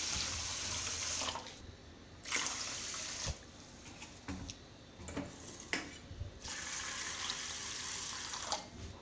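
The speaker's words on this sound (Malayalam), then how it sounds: "അരി ഉഴുന്നും കഴുകി എടുത്ത് വെച്ചിട്ടുണ്ടെങ്കിൽ നമുക്കിത് കുതിരാനുള്ള വെള്ളം ഒഴിച്ചു കൊടുക്കാം." Water pours in splashing bursts over washed rice and urad dal to soak them for dosa batter. It sounds close, with a steady rush broken by short pauses and no talking.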